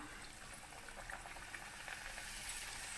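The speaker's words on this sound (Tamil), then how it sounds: "இப்போ எண்ணெய் நல்லா சூடாக இருக்குங்க ஒன்று ஒன்றா எடுத்து நம்ம ஃப்ரை பண்ணிக்கலாம்" Thattai, crisp rice-flour crackers, fry one at a time in hot oil over a low flame, giving a faint, steady sizzling hiss with small bubbling flickers throughout.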